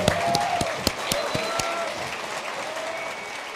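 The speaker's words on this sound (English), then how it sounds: "let's give these guys a round of applause" A small crowd at a barbecue event claps for guests, with scattered sharp individual claps over a softer wash of applause that thins out toward the end.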